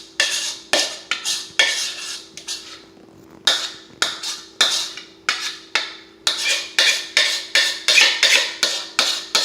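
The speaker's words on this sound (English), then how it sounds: "make sure you scrape the edges, get anything and everything you need out of here" Ricotta cheese scraped out of a container with a utensil while making homemade lasagna: a long series of short, sharp scraping and clinking strokes in an irregular rhythm, close and fairly loud, with no talk.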